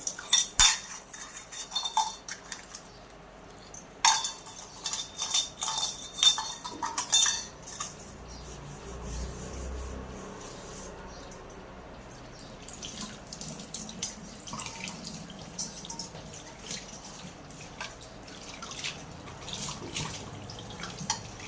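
Ice cream bowls washed in a kitchen sink, with running tap water and splashing throughout, plus bowls and spoons clattering and clinking in bursts, loudest in the first half.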